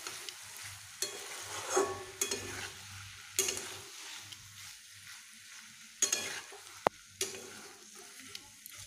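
A vegetarian taro curry is sautéed in a pan, with repeated scraping stirs breaking through a low sizzle, close and intermittent, plus a few sharp utensil knocks and no voices.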